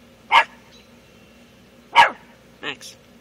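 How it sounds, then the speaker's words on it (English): Two sharp, loud dog barks about a second and a half apart, then a softer double yip. "Max, the missing chromosome dog."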